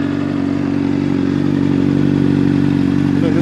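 Motorcycle engine fitted with a Taida big valve intake and a racing 32mm SudCo carburetor, idling and running steadily close by with a loud, even low throb and mechanical clatter, no voices.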